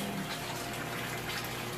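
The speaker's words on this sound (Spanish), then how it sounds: "Y ahí está el agua, la pila." Water runs steadily into a stone washbasin (pila) outdoors in Santa Tecla, El Salvador, a continuous broadband gush like a tap filling a basin, close and even throughout.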